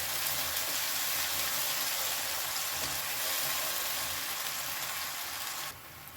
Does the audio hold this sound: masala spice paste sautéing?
yes